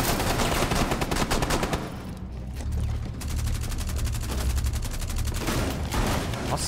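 Rapid gunfire from Rainbow Six Siege gameplay, dense bursts of repeated shots that stop briefly and then resume, loud and close throughout, with no talk over them.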